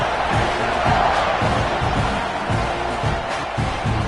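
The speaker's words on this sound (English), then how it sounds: "this crowd is buzzing after that last score" Stadium crowd buzzing in a college football video game, South Carolina at Texas A&M, a loud continuous roar with rhythmic low thumps running through it.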